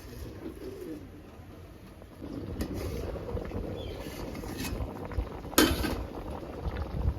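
Coconut rice boiling in a covered pot, with a soft, low bubbling simmer that is faint and steady, with a few brief clinks and a louder bump near the end, and no talk.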